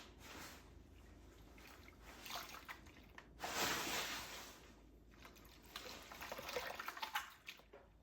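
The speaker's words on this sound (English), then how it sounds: "we're going to go ahead and dunk it into the warm soapy water" A human hair wig topper dunked and swished in a basin of warm soapy water, steady sloshing and splashing close by with a louder surge midway, no voices.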